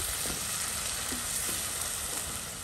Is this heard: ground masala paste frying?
yes